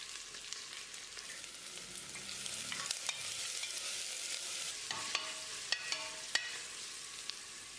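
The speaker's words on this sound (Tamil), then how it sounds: "வெங்காயத்தை நல்லா பொன்னிறமாக வதக்கிடலாம்." Steady crackling sizzle of onions frying in oil, with occasional sharp clicks and scrapes of a utensil stirring the pan.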